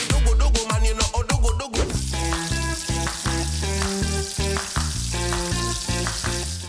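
Tempe mendoan and assorted fried snacks sizzle in hot oil, a dense continuous crackle and bubbling heard near and alone, with a few clattering knocks at the start.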